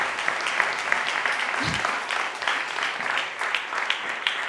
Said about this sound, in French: Applaudissez-moi, s'il vous plaît, aussi.